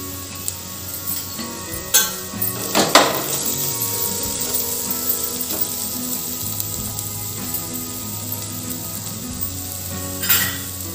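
Spices, including black masala and coriander-cumin powder, being pan-roasted for Khandeshi khichdi: a soft continuous sizzle with occasional clinks and scrapes of a spoon against the pan, a few sharper knocks, and steady background hum.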